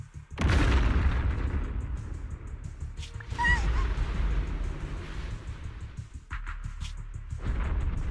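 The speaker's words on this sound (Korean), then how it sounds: "비행선이 추락하고 있어." An airship crashes and explodes in the video game Zenless Zone Zero: a loud, sustained booming roar that begins abruptly and rumbles on for several seconds, with brief sharp bursts and a short chime layered over it.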